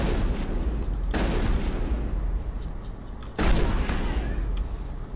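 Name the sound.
gunshots in the video game Mass Effect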